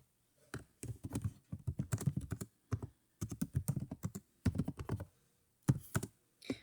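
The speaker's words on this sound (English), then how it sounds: "Now you can start typing." Keys on a computer keyboard clatter in quick bursts of typing separated by short pauses, close and moderately loud, while text is entered in Vim's insert mode.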